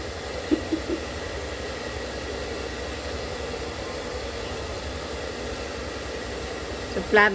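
A hair dryer blows with a steady, even whoosh for the whole stretch, with a couple of faint knocks early on and a brief louder burst at the end.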